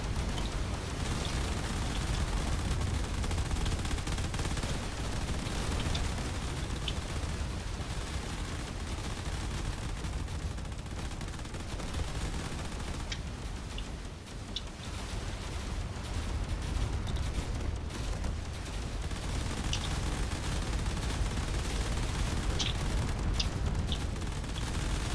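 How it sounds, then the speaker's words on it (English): Corvettes and turrets firing weapons in a space video game, a continuous dense barrage of blasts and shots lasting the whole stretch, fairly even in loudness with scattered sharper crackles. "these corvettes are really keeping a safe distance away and firing away with everything they've got."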